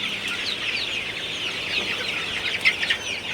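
Broiler chickens cluck continuously on a poultry farm on a hot day, a dense flock chattering in overlapping calls at steady moderate loudness, with a few sharper nearby clucks toward the end.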